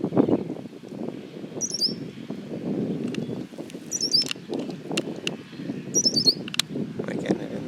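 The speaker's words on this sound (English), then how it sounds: "Is it possible that it's the same bird?" High, brief bird calls repeat in short bursts, faint and somewhat distant, over low rustling and a speaking voice.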